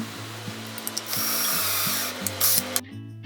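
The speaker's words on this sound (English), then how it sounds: "Pre-drilling the holes is really easy to do." A power drill whirs in short repeated bursts, its motor spinning up and down as it bites into wood, with a higher whine near the end.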